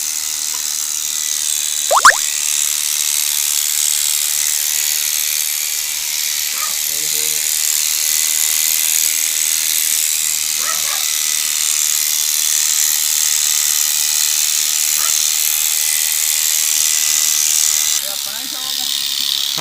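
An electric trimmer clips a donkey's hair with a continuous high-pitched buzz that runs the whole way through, while voices talk faintly now and then over the motor.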